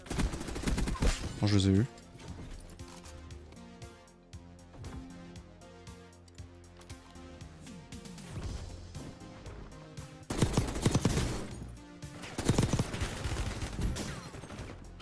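Gunfire in Call of Duty: Warzone: bursts of rapid shots, with louder volleys near the start and end, mixed with game music and players talking in French.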